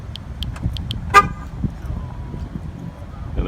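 A Ford Fusion Hybrid sounds a short horn chirp as it locks, heard once near the middle over quiet outdoor background, preceded by a few faint high ticks.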